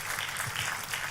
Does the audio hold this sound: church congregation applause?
yes